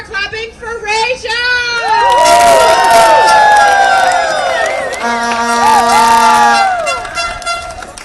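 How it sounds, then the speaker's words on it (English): A loud protest crowd of Starbucks workers cheers and shouts continuously, with whoops, whistles and horn toots rising above the steady roar of many voices. "please start clapping for Rachel"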